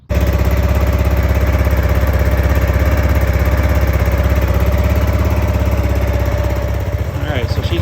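A Kawasaki KLR 650 motorcycle engine idles steadily up close to warm the oil before an oil change. The single-cylinder thump is loud and even, and a voice talks faintly near the end.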